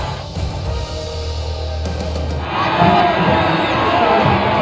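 A crowd in the F1 25 racing game cheers a podium celebration, swelling into loud, sustained shouting and whooping partway through after a quieter, muffled start.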